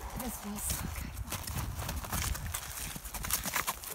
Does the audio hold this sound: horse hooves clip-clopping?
yes